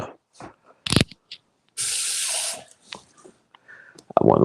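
Water pours into a pot for smoked chicken soup in a home kitchen, a steady hissing stream under a second, with a short splash later, amid clinks and brief noises.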